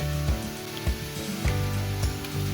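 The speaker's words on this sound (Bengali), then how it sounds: "এক চা চামচ ধনিয়া গুঁড়া মশলাটুকু ভালোভাবে কষিয়ে নিব মশলা থেকে এভাবে তেল ছেড়ে দিলে" Ground spices, coriander and turmeric, fry in hot oil for a Koi fish curry. The sizzle is steady and close, punctuated by several soft clinks or stirring knocks at regular intervals, with no voices.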